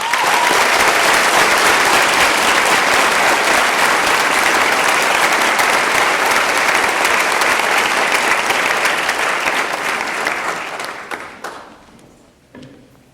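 Hearty audience applause at a university honors convocation, a loud, sustained roar of many hands clapping that holds steady for about ten seconds before thinning out into scattered claps and fading.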